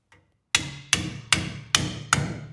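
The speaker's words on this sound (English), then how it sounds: "putty knife and we're going to knock this thing off" Five sharp metallic hammer blows strike a bent putty knife wedged under a John Deere 47/54 snow blower gearbox cover, evenly spaced about every 0.4 seconds, loud and close with ringing decay after each hit.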